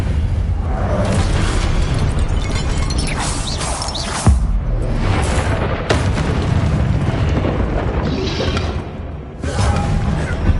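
Loud, dense booming blasts from the Confringo spell in Hogwarts Legacy, heavy explosive rumbles with crashing bursts layered continuously throughout.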